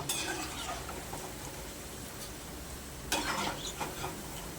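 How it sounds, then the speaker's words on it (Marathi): Corn pakoras bubble and sizzle in hot oil, a steady dense crackle with a sharper burst of spattering near the end, close by and without voices. "छान असे पकोडे तळून झालेत आता आपण तेलातून काढून घेऊयात"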